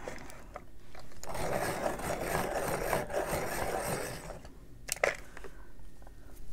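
A colored pencil turning in a sharpener, a continuous close scraping grind for several seconds, then a few short clicks as it stops.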